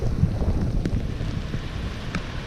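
Steady rain pours outdoors on a stormy seaside cliff at Paldiski, a dense, loud hiss with low gusty rumble and a few sharper patters, no voices.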